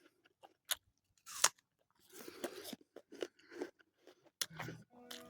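Someone chewing crunchy foraged hazelnuts on a country walk, with sharp irregular cracks and bursts of crunching close to the mouth separated by quiet pauses.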